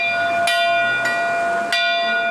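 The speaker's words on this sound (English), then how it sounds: "Today, the bell tolls in their memory." A commemorative bell at a Nanaimo harbour heritage celebration tolls with four evenly spaced, ringing strikes whose long metallic tones hang and overlap between hits.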